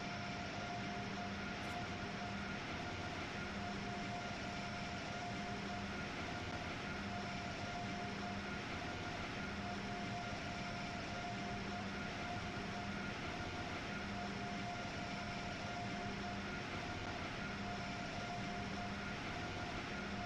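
An Amtrak Acela train in Train Sim World 6 pulls away, giving off a steady, continuous electric hum and drone with sustained tonal whine, even and unbroken throughout, with no voices.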